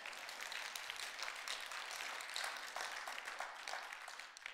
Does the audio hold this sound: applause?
yes